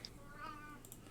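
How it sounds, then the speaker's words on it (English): A house cat named Momo meows once in a short, faint call close by, standing out over a quiet room background with no talk. "That's my cat."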